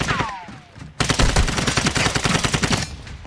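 Rapid automatic gunfire from Call of Duty Warzone bursts in loud and dense after a brief quieter opening, sustaining a fast rattling fusillade for a couple of seconds before easing off.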